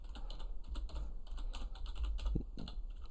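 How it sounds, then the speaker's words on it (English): Close, quick keystrokes clatter on a computer keyboard as a Rocket League search is typed in, a rapid, uneven run of clicks with no speech. "if you go onto Reddit and you type in Rocket League exchange"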